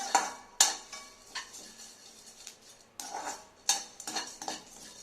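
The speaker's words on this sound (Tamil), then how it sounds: "ஸ்லோ ஃப்ளேமில் தான் வறுக்கணும், கை விடாமல் வறுக்கணும்." Whole spices for garam masala rattle and scrape as they dry roast in a pan over a low flame, with irregular metallic clinks and stirring scrapes coming in bursts, close and fairly quiet.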